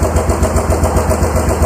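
A Yamaha Big Bear ATV engine runs at a steady, close idle just after starting, with a rhythmic low putter that stays even and loud throughout, without any talk.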